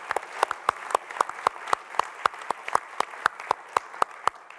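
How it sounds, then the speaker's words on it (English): Audience applause for a 95th-birthday observance, heard as a steady run of loud, distinct hand claps at a fairly even rhythm, close and clear, with no talking over it. "we can give him a round of applause."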